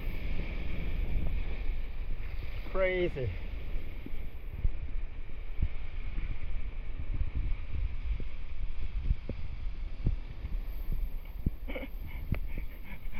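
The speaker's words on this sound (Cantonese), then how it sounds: "好大浪啊！" Big waves surging against a sea cliff, a continuous low rumbling wash mixed with wind buffeting the microphone, with a brief shout and scattered clicks partway through.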